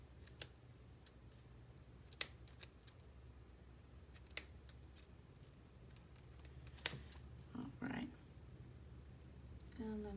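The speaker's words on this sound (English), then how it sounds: "we can trim it up to make it even" Scissors snip a small yarn pom pom to trim it even, giving a few sharp, isolated close-up clicks spread out over quiet background, followed by soft rustling of the yarn.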